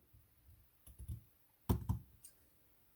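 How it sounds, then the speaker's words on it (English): Scissors snipping a small piece of ribbon off the end, a few quiet close clicks and crisp cuts, with one louder snip burst in the middle and faint handling sounds between. "I'm just going to cut this little piece off the end here."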